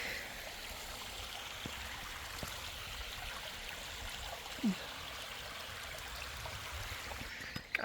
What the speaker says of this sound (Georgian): ეს ჩანჩქერი